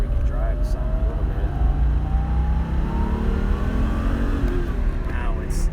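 Engine and road noise inside a 1991 Porsche 964 turbo on the road, with a continuous rumble and a rising, whining pitch as it accelerates, heard with a voice talking over it.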